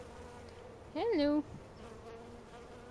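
A honeybee buzzes close to the ear while a hive is being installed, giving a brief, loud, wavering hum of about half a second over quiet surroundings; a person briefly speaks.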